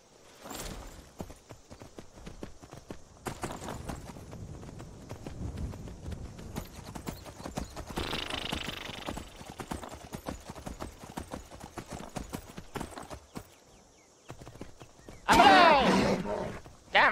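Clip-clop of horse hooves in Skyrim, a steady walking rhythm through most of the stretch with game ambience and a brief louder burst near the end; someone talks at times.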